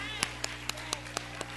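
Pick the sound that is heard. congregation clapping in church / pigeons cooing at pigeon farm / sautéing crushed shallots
congregation clapping in church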